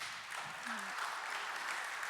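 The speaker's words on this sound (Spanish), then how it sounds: "Un aplauso para ellos, por favor." Audience applauding the speakers at the close of a talk, a soft, distant wash of steady clapping with a faint voice briefly heard.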